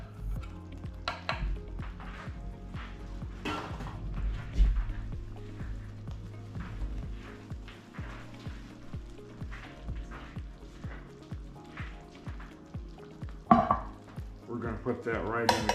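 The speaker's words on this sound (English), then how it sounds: "And we're just going to stir that up." Jiffy cornbread mix and creamed corn stirred together with a spoon, producing continuous wet scraping and occasional clinks against the bowl, close and moderately loud.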